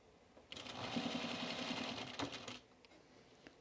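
A sewing machine stitches trousers with mustard thread in one quick, fairly loud run of rapid mechanical whirring lasting about two seconds, then stops abruptly into near quiet.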